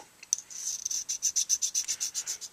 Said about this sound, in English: doing a little bit of hand filing here, where I have a little bit more control